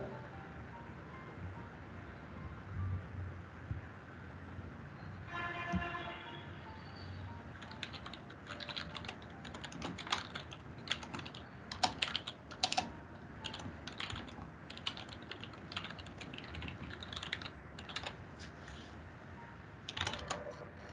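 Keystrokes on a computer keyboard as a question is typed out, a steady run of quiet clicks and taps in bursts over a low background hum, growing busier in the second half, with no talk.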